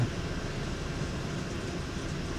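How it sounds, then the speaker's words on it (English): A VIA Rail train between Toronto and Ottawa rushes past close by, a steady broad rumble and roar holding at even loudness throughout, with no voices. "And then the train passed by, and I got surprised by it."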